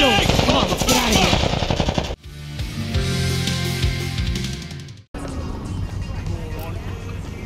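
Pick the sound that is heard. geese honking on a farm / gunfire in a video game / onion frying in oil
gunfire in a video game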